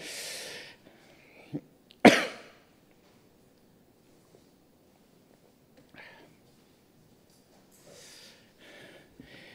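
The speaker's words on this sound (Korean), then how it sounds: "제가 지금 노래를 하려고 하니까요 계속 기침이 나서" A pastor with a lingering cough after a cold coughs during a church service: a sharp cough and then a louder one close together, followed later by softer throat noises and breaths in a quiet room.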